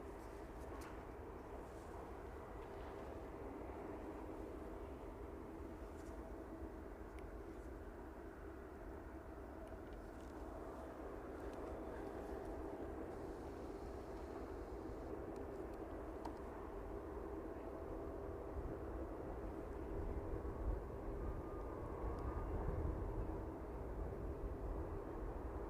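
A distant aircraft approaches East Midlands Airport as a faint, broad, low rumble that builds slowly and steadily over the open outdoor background, with no talking.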